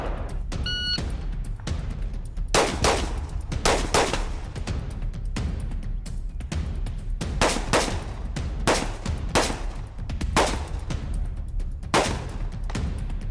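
Rifle shots crack at a shooting range, with sharp reports spaced a second or two apart over a steady outdoor background, some sounding close and others more distant.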